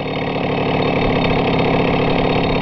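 A car engine runs steadily and close at a constant, unchanging pitch throughout, with no talk, during a May 2016 motoring challenge event held by a convoy from Dnipropetrovsk.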